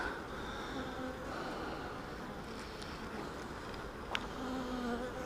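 Honeybees swarm over a hive frame full of capped brood, making a dense, steady buzz close by, with occasional individual bees droning past louder.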